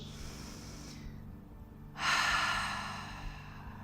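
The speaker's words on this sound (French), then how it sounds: "Une dernière grande respiration, c'est à votre discrétion d'expirer par le nez ou la bouche." A long, audible exhale ends a deep breath during a yoga routine, starting softly then swelling into a breathy rush that gradually fades; quiet background, no talking.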